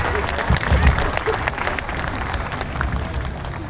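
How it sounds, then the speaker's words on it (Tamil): An audience claps at a Tamil gathering, the dense patter steady and fairly loud throughout, with some crowd murmur mixed in. "உங்களுடைய தூக்கத்திலேருந்து வெளியே வந்து கைதட்டுறீங்களா?"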